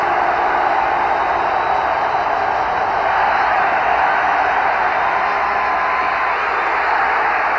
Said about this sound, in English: An aroused Orange Bowl crowd exhorting the defense